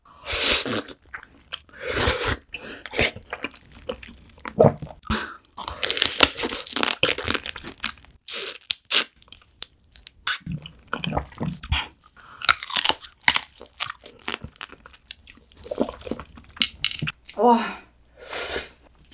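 Soy sauce marinated raw crab with sea urchin roe is eaten up close, with wet slurping, sucking and crunchy bites coming in bursts between short pauses, while a voice speaks softly now and then.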